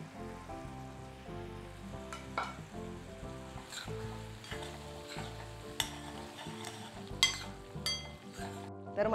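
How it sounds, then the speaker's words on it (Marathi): Chicken kofta cooks in a thick masala with a splash of water in a pan. A soft, steady sizzle with small crackles sits beneath prominent background music. "आता याच्यामध्ये घालूया आपले कोफ्ते."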